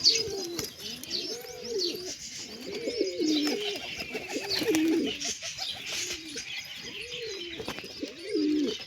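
Repeated soft coos of wild pigeons, low and throaty, roll one after another close by, with faint chirps and outdoor noise behind them.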